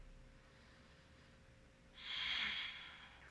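A single deep, breathy exhale during a yoga pose, soft and close against a quiet room, rising and fading over about a second with no talking.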